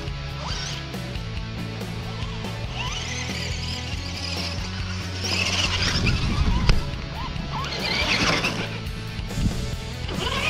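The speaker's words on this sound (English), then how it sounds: "Do a burnout" A car does a burnout: steady engine drone with squealing, scraping tire bursts that swell and fade, heard at moderate distance, with faint voices in the background.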